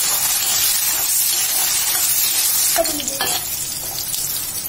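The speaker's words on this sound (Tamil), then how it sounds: "பூண்டு ஒரு துண்டு இஞ்சி பச்சை மிளகா ஆறு எல்லாம் நல்லா பொண்ணுறவள வறுத்து எடுத்துக்கணும்" Garlic, ginger and green chillies fry in a pan with a steady, loud sizzle and hiss, with a few stirring scrapes near the end.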